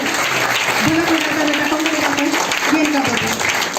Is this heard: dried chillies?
no